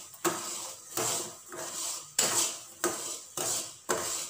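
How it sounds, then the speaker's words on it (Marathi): A utensil stirs melted jaggery syrup for peanut chikki in a pan, knocking against the pan in sharp metallic clinks. The clinks come about every half second, close and fairly quiet. "आता पाक बनायला सुरुवात झाली आहे, असं हलवत राहायचं"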